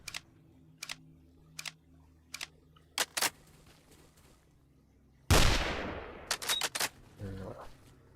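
Gunshots from the Stalker mod in Minecraft, a series of sharp single reports spaced a second or so apart, then a louder burst and a rapid cluster of shots, with a voice briefly heard.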